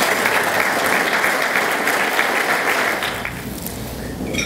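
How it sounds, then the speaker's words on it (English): A crowd at a realtors association meeting gives the board of directors a round of applause, loud dense clapping that holds steady and then thins and fades after about three seconds. "Let's give them a round of applause."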